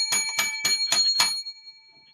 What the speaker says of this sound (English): 7 lucky bells for this week's show